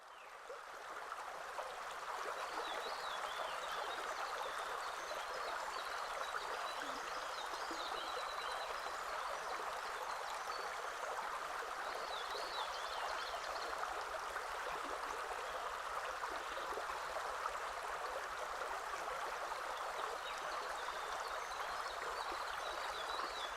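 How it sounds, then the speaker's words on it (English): A steady, continuous rush of river water flowing in the Hammersley Wild Area, broad and even throughout with faint higher trickles layered on top. "I recorded several segments of the river."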